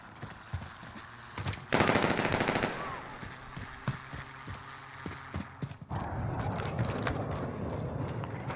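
Gunfire in Call of Duty: Modern Warfare comes in short rapid bursts of automatic shots, one loud volley standing out, mixed with game effects and background noise.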